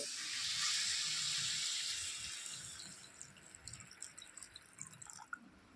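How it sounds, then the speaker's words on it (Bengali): Water is poured into a pan of potato curry, making a bright hissing splash for about two seconds that settles into soft bubbling, sputtering and ticking sounds. "এবারে আমি জল দিয়ে দেবো।"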